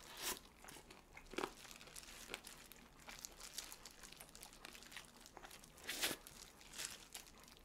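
Crunchy BHC fried chicken being bitten and chewed up close, with sharp crackling crunches at irregular intervals and quieter chewing in between. No talking.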